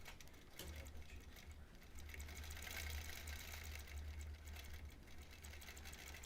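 A quilting machine basting a Double Wedding Ring quilt topper runs in a rapid, continuous mechanical stitching chatter after a brief start, steady and close with no talk.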